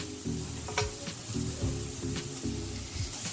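Grated garlic sizzles in a pan at close range, with a steady hiss broken by regular scraping stirring strokes about every three-quarters of a second and no voices.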